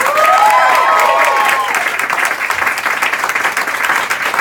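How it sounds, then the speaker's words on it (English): A theater audience applauds loudly and steadily at a live comedy stage show, dense clapping with a few cheers near the start. "I was going to yell at you for not clapping enough, but you're really nailing it."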